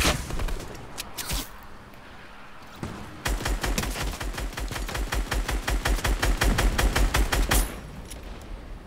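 Rapid gunfire in the video game Fortnite: a few scattered shots, then a sustained burst of evenly spaced automatic fire lasting several seconds, fairly loud and close, with no talk over it.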